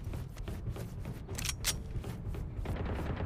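Rapid gunfire rings out in a Counter-Strike match, probably from a pistol, as a cluster of sharp, loud shots around the middle of a busy, noisy stretch of game audio.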